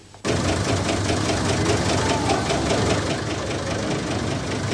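The Zuse Z3 relay computer starts up abruptly and then runs with a steady, loud, rhythmic chugging like a tractor engine, close and continuous with no voices.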